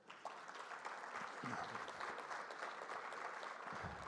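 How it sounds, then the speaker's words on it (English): An audience breaks into sustained, even applause at a South African education launch event, a steady wash of clapping held at a fairly quiet, distant level throughout. "A big round of applause."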